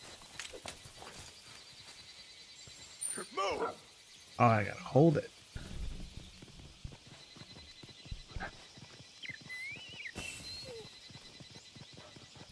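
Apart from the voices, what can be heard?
horse hooves clip-clopping while riding, Monster Hunter video game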